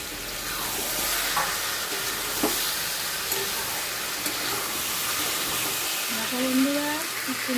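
Potatoes with spices fry in a pan, a dense steady sizzle with some stirring scrapes, and a faint voice joins near the end.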